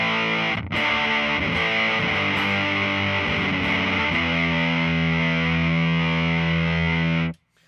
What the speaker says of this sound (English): So this is my Electro Harmonix Op Amp Big Muff, which I'm a huge fan of.